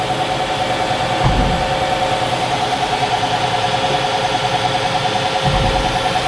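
A Fadal 4020HT CNC machine runs with its spindle turning at 1,000 RPM, giving a steady mechanical hum with a tonal whine and two brief low thumps, close and constant without speech.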